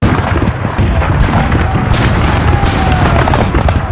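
Civil War musket volleys roar in a dense, continuous battle din at the sunken road, with heavy booms and overlapping gunfire loud throughout.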